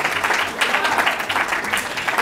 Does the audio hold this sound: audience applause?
yes